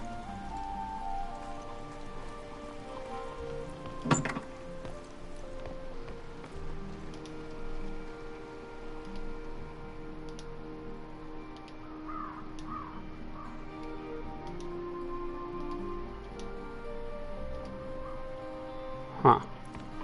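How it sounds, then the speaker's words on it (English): Steady rain in the video game The Hunter: Call of the Wild, Te Awaroa map, patters and hisses continuously, with sustained tonal background sounds and a couple of sharp, brief clicks. "Here comes the rain."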